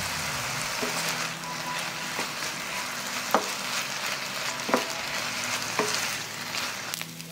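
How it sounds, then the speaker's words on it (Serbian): Meat frying in a pan while being stirred, a steady crackling sizzle broken by several distinct scraping and tapping strokes of the utensil. "i pržiti dok meso ne bude gotovo."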